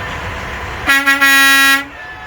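A loud truck horn blasts three times in quick succession at a trucker convoy in Ottawa, the last honk held for about half a second before cutting off.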